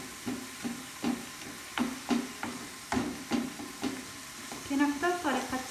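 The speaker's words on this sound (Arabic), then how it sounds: "نبدا نحرك بحال هكا تبان ليا الزيت راه خارجه من هاد العجين ديال لافوكا." A wooden spoon stirs thick homemade avocado paste in a pan to draw out its oil, giving repeated scraping strokes roughly every half second over a soft steady sizzle, close and moderately loud, with no talking.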